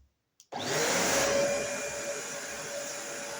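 A Bissell cleaning machine starts after a brief click and silence, its motor jumping straight to a loud, steady, vacuum-like whooshing roar that keeps running evenly nearby, with no talking.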